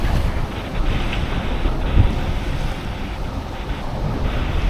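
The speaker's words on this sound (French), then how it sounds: "le vent s'est levé là un peu" Strong seaside wind buffets the microphone in a steady, loud roar, with the wash of waves underneath and no voices.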